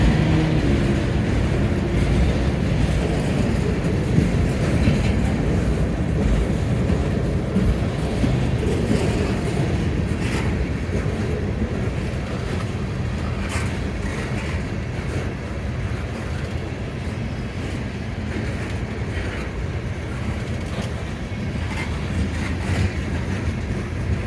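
A Florida Gulf Atlantic train passes the old depot in Lloyd, Florida, a steady loud rumble and clatter of rolling cars running continuously throughout.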